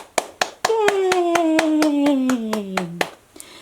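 A few people clap hands in a steady, even rhythm, about a dozen sharp claps, while a cheerful voice holds a long, sliding 'yay' over them at the end of a children's read-aloud.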